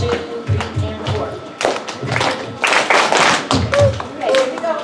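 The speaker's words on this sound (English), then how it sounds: "You guys can clap along if you can keep time with us, okay?" Audience clapping along in time at a school band informance, steady rhythmic claps with thuds and some talk mixed in, loud and close.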